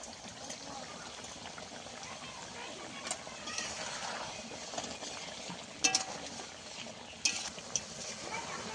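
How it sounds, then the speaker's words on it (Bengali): Vegetarian okra curry with a little water and sugar boils in a pan, giving a steady close bubbling and sizzling hiss, with a few light utensil clinks near the end. "এবারে ভালো করে ফুটিয়ে নেব।"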